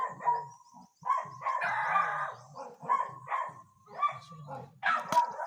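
Dogs barking at a house, several loud, close barks in quick bursts with short pauses between.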